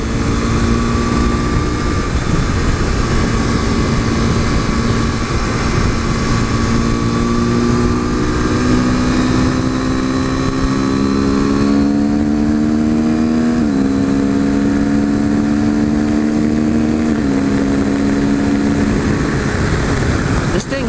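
A modded 2015 KTM RC 390 single-cylinder motorcycle engine pulls hard through the gears, a loud steady drone that climbs in pitch, drops at each shift and climbs again, close and continuous throughout.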